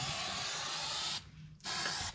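Fluid Film rust protection sprayed onto a Mitsubishi Delica underbody, a steady close aerosol hiss that stops briefly for about a third of a second and then resumes.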